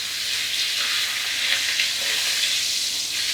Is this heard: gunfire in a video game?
no